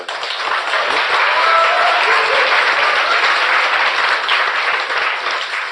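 Sustained applause from a live audience at a political talk show, steady, dense clapping that stays loud and even for about six seconds with no speech over it.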